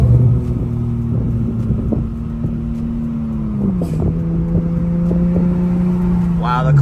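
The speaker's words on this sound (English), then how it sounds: "Wow, the car sounds 100 times better." An Infiniti Q50 idles with a deep, steady exhaust rumble after a header leak repair, its pitch dipping slightly midway, heard close and loud with a brief rev at the end.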